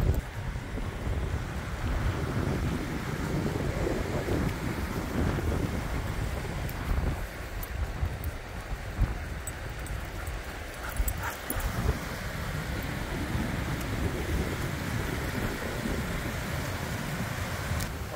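Sea surf and steady wind at a beach at sunset, a continuous broadband wash of waves with wind buffeting the microphone throughout, no talking.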